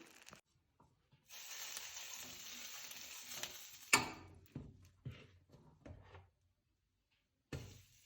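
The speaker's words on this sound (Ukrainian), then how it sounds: "І знову черпах тіста розрівнюю і обсмажую з двох сторін." Yeast pancake batter sizzling steadily in a hot oiled pan for a few seconds, then scraping and clattering of a utensil, followed by a short silence and another brief sizzle.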